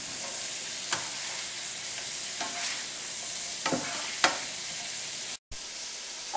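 Shrimp sizzle steadily in a frying pan as they are turned with a utensil, giving a continuous close hiss with several brief scraping stirs and one short break near the end.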